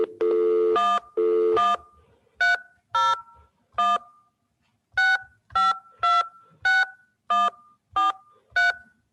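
Telephone keypad dialing tones, a quick series of about fifteen short beeping tones in irregular groups with brief gaps, the first few longer and louder, heard alone.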